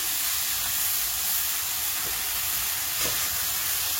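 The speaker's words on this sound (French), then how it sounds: "Rajoute juste un petit peu d'eau pour déglacer un petit peu." Water poured into a hot pan to deglaze it while cooking goat colombo, producing a loud, steady broadband sizzle and hiss with faint bubbling and no talk.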